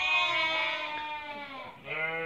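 Merino sheep bleat in one long, wavering call that dips and then rises again at the end, loud and close, apparently in a livestock yard.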